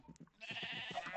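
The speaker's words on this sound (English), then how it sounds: "The lambs are still screaming." A lamb gives a single wavering, nasal bleat up close, preceded by a few soft, short animal noises.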